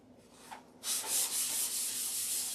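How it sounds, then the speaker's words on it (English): Sandpaper rubbing back and forth over a surface, a steady close, bright scratchy hiss that starts abruptly after a brief quiet moment and continues evenly. "each grit of sandpaper is removing the scratches from the grit before"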